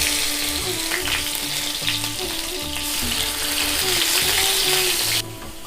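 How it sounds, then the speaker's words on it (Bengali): Two large potatoes fry in hot oil, giving a steady, close sizzle and crackle that runs throughout with a few stirring scrapes, and no one speaks. "তেল গরম হয়ে গেছে, আমি আলুগুলো ভেজে নেব।"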